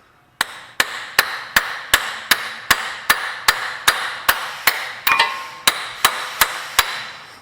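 A hammer strikes a new axle to seat it in a Honda hub during an outer transmission seal job, about fourteen sharp metallic blows at a regular, fairly quick pace, loud and close, with no talk.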